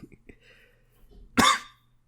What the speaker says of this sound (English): I've had this weird cough